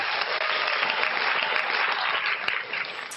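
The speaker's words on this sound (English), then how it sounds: "More applause for you." Audience applause at a corporate talk session, a steady, even roar of many hands clapping together throughout, fairly loud with no voices over it.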